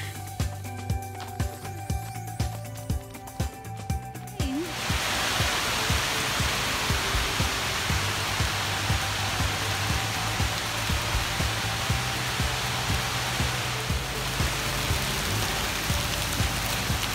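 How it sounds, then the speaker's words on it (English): Rain pours steadily during a city hike on Bukit Sri Bintang, a dense hiss of drops close by that grows louder after a few seconds, with faint rhythmic footsteps under it. "It's raining."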